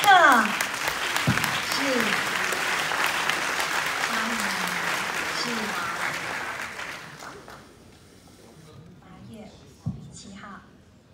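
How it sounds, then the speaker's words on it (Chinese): Ceremony audience at an oil-painting presentation claps steadily and warmly, then the clapping fades out, and someone briefly speaks near the end. "让我们用热烈的掌声来见证这历史性的一个"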